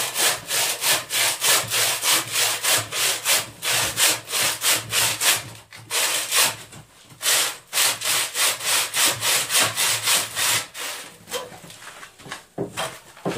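A handsaw cuts a lightweight concrete block in quick, regular back-and-forth rasping strokes, loud and close. The strokes pause briefly a few times and there is no speech.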